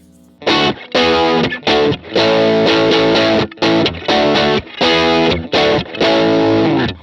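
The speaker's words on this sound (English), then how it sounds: "Man, that's just like this tight rock sound" An electric guitar plays choppy, tight riffs through a Pettyjohn Gold MK II overdrive set to low gain, lightly overdriven, bursts of chords separated by short stops.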